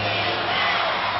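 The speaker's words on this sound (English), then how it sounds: "Crowd yelling for defense." Arena crowd yelling and chanting for defense at a 1986-87 MISL indoor soccer playoff game, Minnesota Strikers at Cleveland Force; a steady, loud roar of massed voices filling the building throughout.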